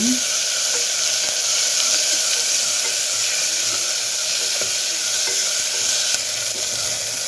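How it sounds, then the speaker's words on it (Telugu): Onions sizzle and fry steadily in a pan of oil, a constant close hiss with faint stirring scrapes throughout and no talk, while preparing majjiga pulusu. "వేగుతున్నాయి కదా"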